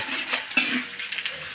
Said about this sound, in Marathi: कांदा व्यवस्थित भाजून घेत आहेत।